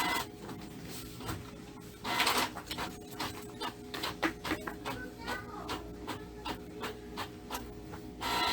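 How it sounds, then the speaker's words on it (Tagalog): A printer prints a module in booklet form nearby, with irregular clicks, whirs and feed motor bursts repeating at a moderate level as pages feed back through. "So, ayan ang aking printer."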